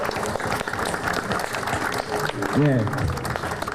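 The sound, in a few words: applause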